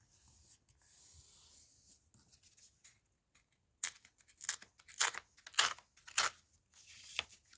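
A paper strip is torn along its perforations for a spring journal: quiet rustling at first, then a run of short, sharp ripping bursts close by, some hesitating and repeated.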